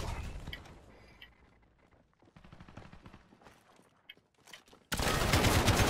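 Rapid bursts of gunfire from a Modern Warfare Beta match, close and loud, stuttering through the first half and swelling into a dense, continuous barrage near the end.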